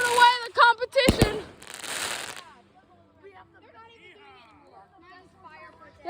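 Fourth of July fireworks mortar shells bursting in a loud crackling cluster of booms, then fading out while people chatter and cheer nearby.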